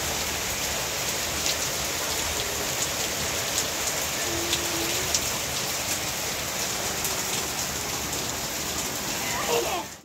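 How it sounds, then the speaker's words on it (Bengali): A heavy monsoon downpour pours down steadily, a dense constant hiss of rain on surfaces with occasional louder drops, continuous and enveloping with no talk. "মুষলধারে বৃষ্টি শুরু হয়েছে।"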